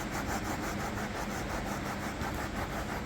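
A spot cleaner is scrubbed into a red wine stain on carpet, a steady, quiet, rapid rubbing and brushing that continues without pause and without talk.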